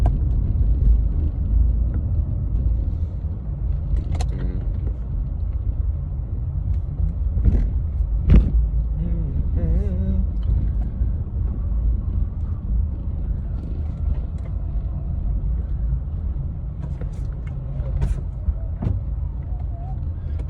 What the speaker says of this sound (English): Now I'm just driving around.